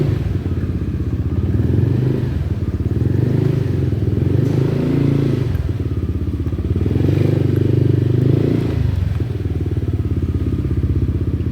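A Yamaha Aerox scooter engine runs close and loud, a steady low idle drone that rises into revving swells a few times before settling back.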